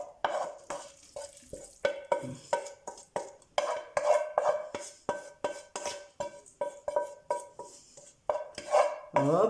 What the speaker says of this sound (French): donc on va les mettre comme ceci dans un saladier